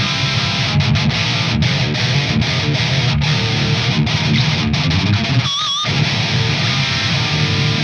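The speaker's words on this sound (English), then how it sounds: "what you are hearing is the guitar going into the Devil Overdrive" A gritty electric guitar through a Devil overdrive pedal plays dense, distorted chords steadily, loud and close with a brief squealing moment near the end.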